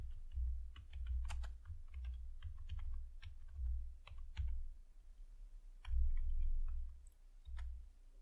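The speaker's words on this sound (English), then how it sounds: "here I'm going to type" Typing on a computer keyboard while writing Python code, with steady close clicking keystrokes in irregular bursts and short pauses, with no talking.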